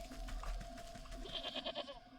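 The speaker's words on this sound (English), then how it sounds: "Hello, little goat." A goat bleats in the video game Wytchwood, a short wavering cry close up, fairly faint, followed by a brief higher chime-like tone.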